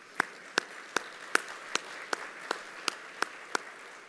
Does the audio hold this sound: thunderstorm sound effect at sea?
no